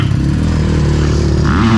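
A KubaMoto KAT 350 fuel-injected motorcycle rides past close by, its engine droning steadily and then rising in pitch as it revs near the end, loud and without speech.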